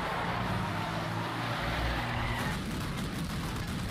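A cartoon car drives off in an animated series, a steady engine rumble that fades and thins as it pulls away, with no voices over it.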